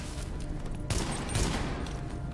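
Bursts of automatic gunfire from The Division, with rounds striking pipes to release fire, sounding as dense, loud rattling shots that swell midway through a short stretch of play.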